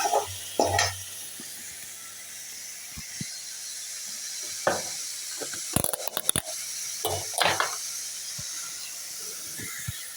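Onions, tomatoes and curry leaves sauté in a pan with a steady, quiet sizzle, broken by occasional sharp clinks and scrapes of a stirring utensil.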